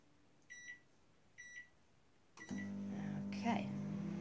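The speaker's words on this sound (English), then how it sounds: "Pop that back in the microwave." Two short electronic beeps from a microwave oven, then a door clunk and the steady loud hum of the oven running as it heats gelatine.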